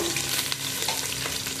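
Green chillies and onions fry in hot oil for chicken dum biryani, giving a steady close sizzle and crackle with no voices.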